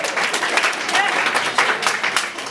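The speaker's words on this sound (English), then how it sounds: "Give yourselves a round of applause" Conference audience applauding after a business talk, a steady wash of clapping that stays fairly loud and close for the whole stretch, with voices mixed in underneath.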